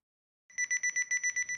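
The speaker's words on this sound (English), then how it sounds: "check out this alarm clock mat" An alarm clock mat sounds its alarm, starting abruptly after a short silence with a rapid, steady run of shrill electronic beeps, loud and close, with no voices.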